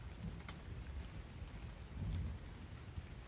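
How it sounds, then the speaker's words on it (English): Game storm ambience keeps playing after a crashed video game: steady rain with low rolling thunder that swells near the middle, plus a brief sharp crackle early on, all without talk. "I can still hear the audio of the storm raging on."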